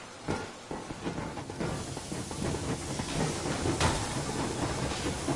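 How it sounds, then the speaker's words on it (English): Steam train Yermak pulling away at full steam in the Metro Exodus video game, a steady broadband hiss and rumble with faint rail clatter and periodic chuffing bursts, continuous and fairly close, no voices. "Yermak, full steam ahead."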